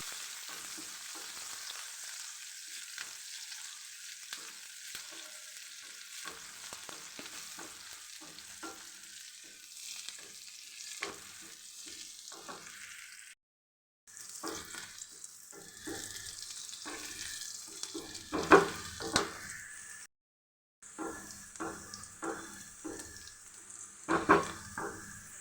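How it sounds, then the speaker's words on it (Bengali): Chopped garlic and onion frying in a pan while being stirred, a soft steady sizzle broken by scraping and clinking stirs, with two brief silent gaps and a few louder stir bursts near the end. "দিয়ে তারপরে নাড়াচাড়া করে ভেজে নিব"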